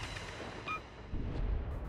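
Battleship Bayern firing its main guns in World of Warships, a deep rumbling boom that swells near the end over steady ambient battle noise.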